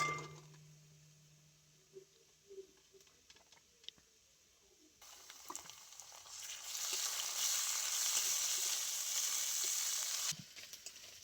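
Onion, garlic and ginger paste frying in a pan, starting with quiet clinks and scraping before a steady sizzle swells up and holds, close and fairly soft.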